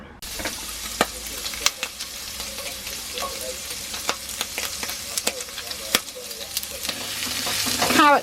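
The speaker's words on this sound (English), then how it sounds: "I've got to fry the paneer for 4 to 6 minutes" Paneer frying in a pan on a narrowboat gives a steady close sizzle with scattered stirring clicks and scrapes, swelling louder toward the end.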